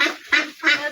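Khaki Campbell and Pekin ducks give three quick, loud, close nasal quacks in a row.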